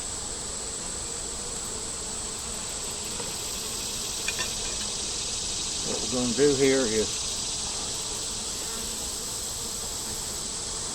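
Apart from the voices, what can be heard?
honeybees buzzing around an open hive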